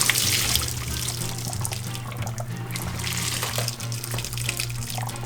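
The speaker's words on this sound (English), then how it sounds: "Let's drain our spaghetti and mix everything up so it can go in here." Water from cooked spaghetti pours steadily into a kitchen sink, a continuous splashing rush of moderate loudness with no talk.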